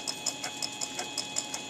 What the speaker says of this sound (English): This is a Black & Decker RTX. It's like a Dremel.